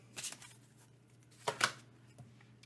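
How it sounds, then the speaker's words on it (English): Tarot cards are shuffled by hand in a few quick, soft riffling bursts with short pauses between them, heard close and quiet with no talking. "Okay, shuffle again."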